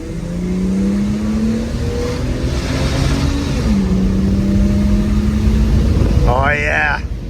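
A Ford Falcon XR6 engine, with mended fuel lines and a new fuel pump, runs steadily at a fairly loud idle with a low, smooth hum and slight pitch shifts, and a brief voice-like sound near the end.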